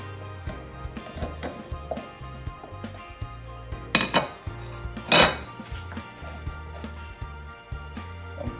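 Cream cheese and strawberry preserves stirred together in a bowl, with a utensil knocking and scraping in a soft, uneven rhythm and two sharper clinks against the bowl partway through. The sound is fairly quiet and close, and no one talks.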